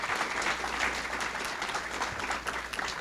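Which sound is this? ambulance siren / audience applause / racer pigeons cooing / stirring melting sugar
audience applause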